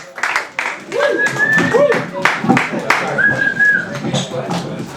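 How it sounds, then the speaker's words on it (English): An open mic audience claps and whistles to welcome a performer, loud uneven clapping with several rising whistles cutting through, shouts and voices mixed in close by. "Big round of applause."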